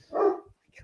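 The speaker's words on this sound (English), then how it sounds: "Apparently, my dogs really don't like something out there." A dog gives one sharp, fairly close bark, followed by faint thumps and small noises in a quiet indoor room.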